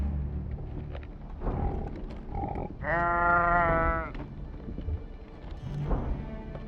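A ewe from the video game Argonus and the Gods of Stone gives one clear, drawn-out bleat of about a second. It stands out loud and alone over a low murmur of other ambient sound.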